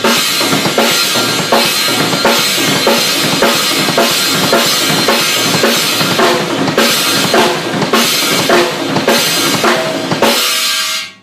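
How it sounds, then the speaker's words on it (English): A drum kit plays a fast sextuplet fill, with the snare and crash cymbal struck together on accents. Dense, loud, rhythmic hits and a bright cymbal wash run throughout, then cut off near the end. "instead of doing a flam, hit a snare and a crash at the same time"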